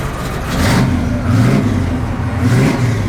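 A 1978 Chevrolet Camaro Z28 V8 engine revs up twice in close succession, the roar rising and falling in loud, near surges with a steady idle rumble between them and no talk.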